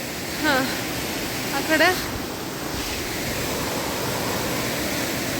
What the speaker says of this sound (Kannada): ಇಲ್ಲಿ ಒಂದು ಫಾಲ್ಸ್ ಇದೆ, ಕಾಣಿಸ್ತಿದೆಯಾ?